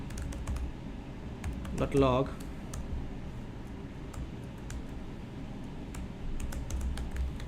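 Steady clicking of computer keyboard keys while code is typed into an editor, a quiet continuous patter of keystrokes with a brief moment of speech partway through.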